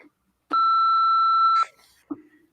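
A single steady electronic voicemail beep sounds clearly for about a second, set between brief bits of talk.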